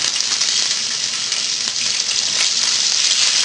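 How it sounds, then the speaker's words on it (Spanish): Shrimp sizzle steadily in hot oil in a pan, a loud, dense continuous crackle that holds without pause from start to finish, with no voices over it. "Freímos las gambitas, como podéis ver, que el aceite está caliente."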